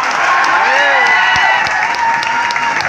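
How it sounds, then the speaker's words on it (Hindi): A crowd at a Teacher's Day celebration claps and cheers steadily and loudly throughout, a dense wash of applause with a voice carrying over it at times. "सबका जोरदार स्वागत करें तालियां बजा करके"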